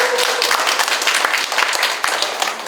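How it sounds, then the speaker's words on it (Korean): Audience applause at a year-end neighborhood community gathering in Jungnang, dense and loud clapping sustained throughout with a faint voice briefly audible early on. "더 큰 박수 한번 부탁드리겠습니다"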